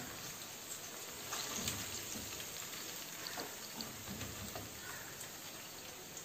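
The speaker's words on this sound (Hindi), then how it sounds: "बाकी के चिकन को भी हम फ्राई कर लेते हैं।" Spicy chicken tender strips fry in hot oil with a steady, faint sizzle and fine crackle, a continuous bubbling hiss without pauses or talk.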